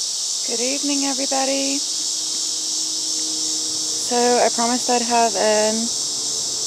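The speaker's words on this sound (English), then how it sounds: "You can hear the cicadas in the background." Cicadas buzz outdoors as a steady high drone running through the whole scene, while a person talks in the foreground for much of it.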